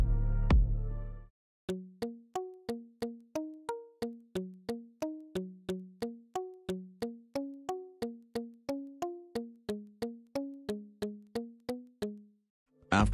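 Synth pluck melody programmed in FL Mobile, a steady run of short, evenly spaced plucked notes stepping through a repeating pattern, clear and alone after a brief opening chord.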